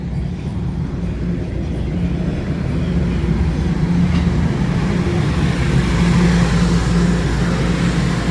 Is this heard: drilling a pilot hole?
no